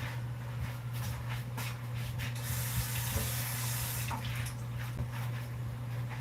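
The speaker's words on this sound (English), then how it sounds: "I'm going to rinse it off." Raw salad vegetables are rinsed under a running tap, giving a steady faint spray of water with a constant low hum underneath and small splashing changes as the stream hits the produce.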